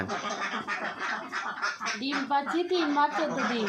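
Ducks on a farm of about 250 birds honk and quack in a busy, overlapping chorus close by, with a person talking over them.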